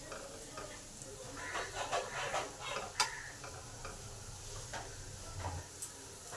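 Fish roe fritters frying in oil as they are turned, a soft sizzle broken by utensil scrapes and taps, fairly faint and close.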